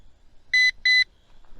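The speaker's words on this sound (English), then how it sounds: "this constant beeping while we're recording" Two short, loud electronic beeps in quick succession from a Dynalog DR-DG600C 200g foldable GPS drone, close to the microphone, with quiet background between them.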